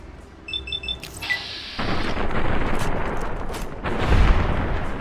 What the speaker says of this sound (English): time to shoot you in the head